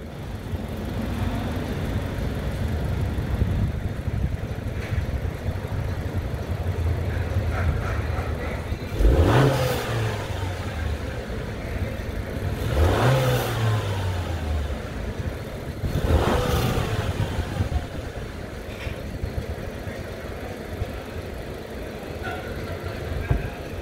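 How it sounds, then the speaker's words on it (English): A 2018-2019 Honda Accord with a catless race downpipe idles steadily, then revs up sharply three times, each rev rising and falling back, with a faint voice in the background. "I'm gonna go ahead and get in there, go ahead and do a few revs"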